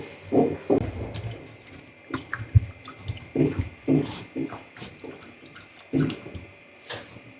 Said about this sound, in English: So go and wash the chicken.